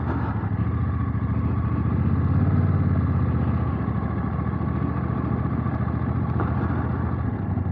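Motorcycle ridden slowly along a very wet, greasy muddy track, its engine holding a steady low throbbing drone close by with some clatter, continuous and without talk.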